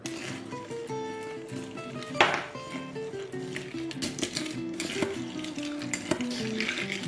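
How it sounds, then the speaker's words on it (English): A caipirinha of lime, sugar, cachaça and ice being stirred: ice cubes clink and rattle against the glass in an irregular rhythm, close up, with a faint musical background and no talking. "Let's give that a little stir."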